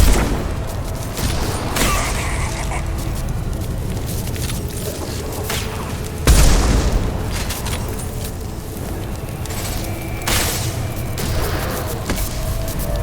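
Concussive Shot blasts and gunfire in the video game Mass Effect 2, a loud booming impact partway through over a steady din of combat noise.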